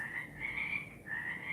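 Frogs croak in a continuous, fairly faint chorus of trilling calls on a spring day, rising and falling slightly without pause over the short stretch.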